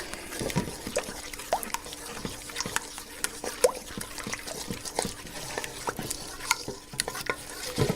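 Thick batter for buffalo cauliflower being stirred in a big bowl, close and fairly quiet, with a rapid run of wet slaps and clinks from the utensil against the bowl and no speech.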